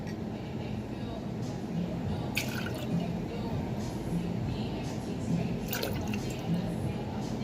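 White chocolate cocoa poured into a cocktail shaker, giving a steady liquid trickle with faint drips and splashes throughout.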